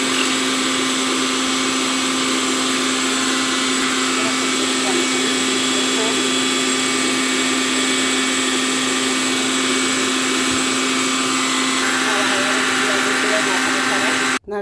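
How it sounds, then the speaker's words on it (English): A blender runs steadily and loudly throughout, whirring as it purées bay leaves into a homemade hair conditioner, with a steady motor hum and no pauses until it cuts off abruptly at the very end. "So I'm going to blend it now."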